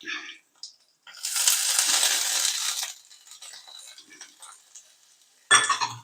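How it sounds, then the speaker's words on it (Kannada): Onion and garlic hit a pan with a loud burst of sizzling that fades into quieter frying, followed by a sharp scrape or clatter of a utensil near the end; no voices are heard. "ಈರುಳ್ಳಿ, ಬೆಳ್ಳುಳ್ಳಿ ಹಾಕ್ಬಿಟ್ಟು ಸ್ವಲ್ಪ ಬಾಡಿಸ್ಬೇಕು, ಫ್ರೈ ಮಾಡಬೇಕು."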